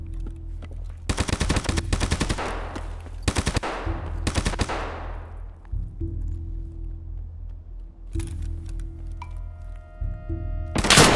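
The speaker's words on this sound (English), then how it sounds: "That's a suppressed AK." Suppressed AK rifle fire in a survival shooter game, several quick bursts of muffled shots in the first half, then sparser single thumps and clicks, loud and close over a steady low game ambience.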